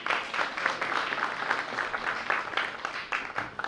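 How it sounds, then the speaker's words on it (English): An audience at a Nigerian American Foundation gala claps steadily, a dense, even patter of many hands sustained throughout at moderate loudness. "Please give her a round of applause"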